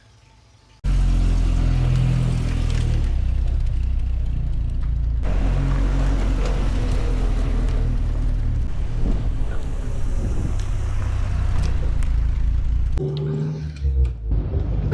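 A 1966 Triumph TR4A IRS drives along a bumpy road, its engine droning steadily under heavy wind buffeting and rumbling road noise, with bumps and knocks from the rough surface and the cabin noise starting abruptly.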